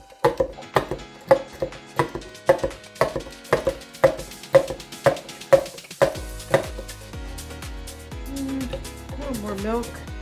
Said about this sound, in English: I'm gonna add a little bit more milk. Stir that up a little bit.